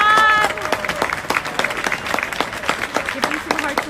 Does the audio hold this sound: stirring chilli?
no